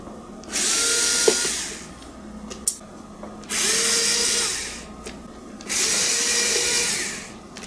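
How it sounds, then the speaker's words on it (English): Power drill backing four screws out of a suitcase handle: three loud, close whirring bursts of a few seconds each, separated by short pauses with small clicks and handling noises. "I'm going to take these 4 screws out, see if it'll come out then."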